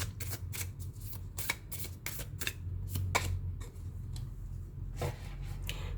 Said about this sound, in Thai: เดี๋ยวมาเปิดไพ่พุทธานุภาพไปกับเพื่อนๆชาวตุลนนะคะ